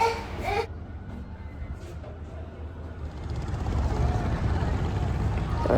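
A passenger launch pulls away on the river journey from Dhaka to Barishal, a low rumbling engine and churning water that swell steadily louder, with a brief burst of background voices at the start.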